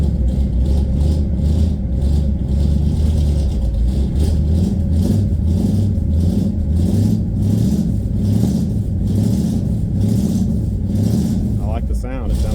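A car engine fitted with a DIY dual exhaust cranks and runs with a rough, rattling rumble that swells into revs, loud and close throughout, with people talking over it.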